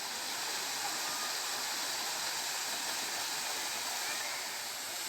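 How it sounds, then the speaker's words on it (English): Bhupar waterfall in Goa rushes in a steady, broad hiss of falling water, constant and fairly close, with no voices and no break in the roar. "This waterfall is Bhupar waterfall, which is also known as Guni waterfall"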